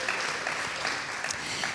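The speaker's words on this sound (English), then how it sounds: "oh yeah, let's clap for them." Audience applause at a mayoral debate, a steady dense clapping wash that fills the whole short stretch at even loudness, with faint voices mixed underneath.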